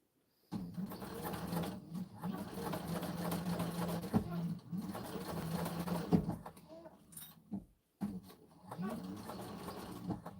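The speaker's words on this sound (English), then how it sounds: "Do you find it easier to bind bags on the cylinder arm?" A cylinder arm sewing machine stitches binding onto bags in bursts of steady whirring, stopping briefly and starting again, fairly close but soft, with light talk nearby.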